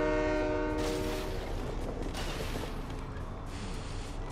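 A train in the video game Fortnite sounds a brief tonal horn, then rolls on with a loud, steady mechanical rumble and creaking.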